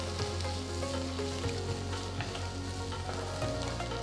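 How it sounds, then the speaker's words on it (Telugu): Chopped tomatoes and garlic frying in a pan for a red chili chutney, a steady soft sizzle with occasional stirring clicks, quiet and close, no voices. "ఇప్పుడు రఫ్గా కట్ చేసిన 2 మీడియం సైజ్ టొమాటోలు వేసి కలపాలి"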